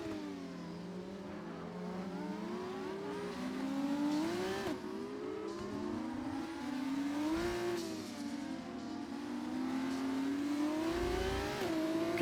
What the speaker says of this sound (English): Can hear the turbo whizzing away as well on all the cars